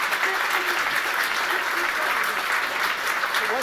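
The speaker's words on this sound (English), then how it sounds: "Let's give her a round of applause." A gala audience applauds a $50,000 pledge at a tenth-anniversary event, a full, even wash of clapping from a large room that stays steady throughout.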